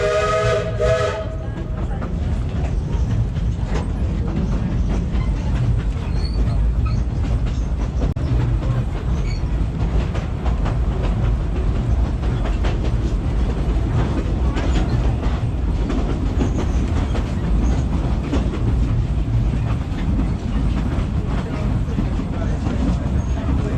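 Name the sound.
Cripple Creek train riding on tracks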